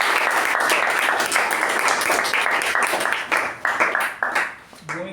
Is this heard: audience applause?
yes